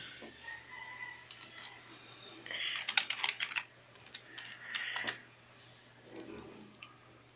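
Password being typed on a computer keyboard, rapid clusters of close, light key clicks in a couple of bursts with quieter single taps between, over a faint steady hum.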